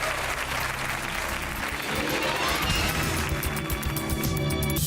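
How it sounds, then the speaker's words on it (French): A television studio audience applauds loudly and without a break, a dense roar of clapping from a crowd that fills the whole clip and masks any other sound. "On applaudit très fort Amina et Alexandre."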